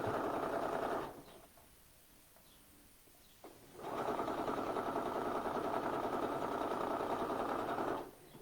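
A sewing machine stitches around the armhole of a top in two steady runs of whirring, pausing for a couple of seconds between them, close and unaccompanied by speech.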